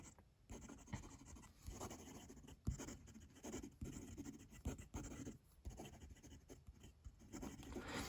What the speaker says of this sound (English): It responds well to quick writing